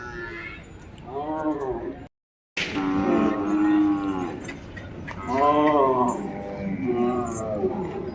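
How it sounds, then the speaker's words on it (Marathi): Cattle at a weekly bullock market moo in several long, loud, close calls, with crowd chatter and market noise running underneath. "आज या बाजारामध्ये जे बैल आहेत, गायी आहेत, म्हशी आहेत"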